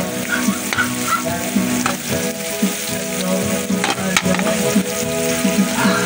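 Ginger, onion and garlic sauté in a hot pan, giving a steady, dense sizzle and crackle with faint stirring scrapes throughout, close and continuous with no voices.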